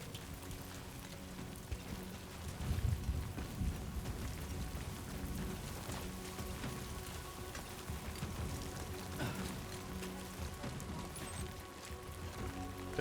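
Rain patters steadily in the video game Death Stranding 2, a soft, even hiss of falling water with no talk over it.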